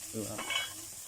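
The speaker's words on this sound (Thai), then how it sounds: "ตอนนี้ก็จะมาทอด แล้วก็รอกรอบๆนะครับ" June beetles frying in hot oil, with a brief stirring clatter and a soft sizzle close by, no voices.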